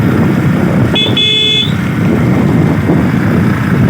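A motorcycle engine drones steadily up close with wind rush on a foggy ghat road, and a brief horn toot sounds midway through.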